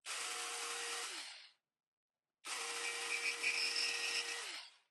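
A jigsaw cuts wood along a template in two loud, close whining bursts separated by a short silence, each run winding down at its end.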